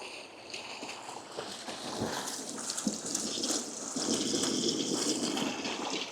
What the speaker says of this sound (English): Very nice water feature right there.